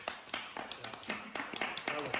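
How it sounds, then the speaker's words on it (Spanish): A small audience at a book presentation gives scattered, uneven claps, sharp hand taps spread irregularly through the short moment, with voices talking over them close by. "¡Aplauso!"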